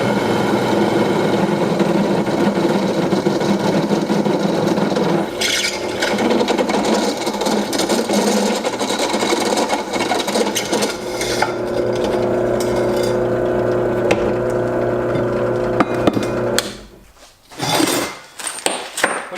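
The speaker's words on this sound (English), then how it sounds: "I'm just going to drill the top sides and then flip it over and drill the bottom sides" A drill boring holes in a turbo manifold flange for a budget LS engine build: steady high-pitched motor whine with grinding metal chatter, a few sharp knocks, then the drilling stops and short rattles and handling noises follow.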